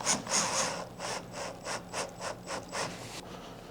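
Cordless drill briefly driving screws during a Bow Xi3 installation, a quick run of evenly spaced ratcheting clicks and whirs, close and fairly loud, no talking.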